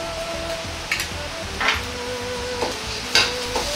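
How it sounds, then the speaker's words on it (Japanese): Minced meat that has turned crispy stir-fried in oil with doubanjiang, for mapo eggplant, in a pan: steady sizzling with several brief scraping stirs of a spatula, close and fairly loud, no talk. "このくらい炒めて肉がカリカリになったら、豆板醤を小さじ1入れます。"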